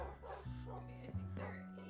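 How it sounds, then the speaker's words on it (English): Many Minecraft dogs yipping and whimpering in quick, overlapping bursts, fairly faint beneath a person talking. "This is so many dogs."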